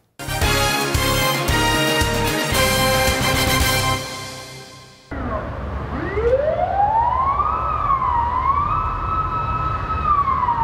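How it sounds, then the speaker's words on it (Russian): Fire engine sirens wail on city streets, a loud rising and falling electronic siren sweeping up and down after a burst of music, close and continuous. "спокойствие городских улиц прервали сирены пожарных машин"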